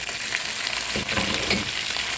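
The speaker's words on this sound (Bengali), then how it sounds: "এখন এই মাছটা ভালো করে পেঁয়াজের সাথে ভালো করে একটু ভেজে নিব" Hilsa fish frying with browned onion in a pan gives a loud, continuous sizzle and crackle, with brief stirring scrapes mixed in and no talking.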